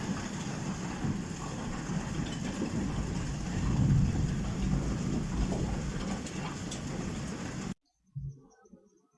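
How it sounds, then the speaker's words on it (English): Heavy thunderstorm rain roars steadily and loudly with low rumbling underneath for most of the stretch, then cuts off abruptly into near silence broken by a brief low thump. "I was overcome by a thunderstorm and I couldn't hear myself thinking in front of my computer."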